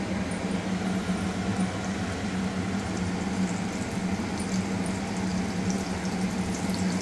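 Bombil fish coated in crushed papad sizzles steadily in hot oil, a dense even hiss holding at a constant level throughout with no voices.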